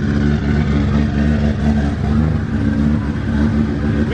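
A brand-new 3.4L Toyota 2JZ engine idles steadily up close, a loud even rumble with a smooth pulsing rhythm and no voices.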